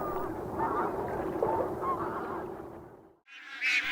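Several bar-headed and greylag geese honk repeatedly in a noisy chorus in a park, fairly close, ending with a louder, sharper call.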